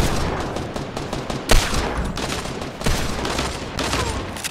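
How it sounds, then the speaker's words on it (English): Rapid gunfire from Fortnite, dense overlapping shots with a couple of sharper blasts standing out, loud and continuous throughout with no talking. "Shotgun."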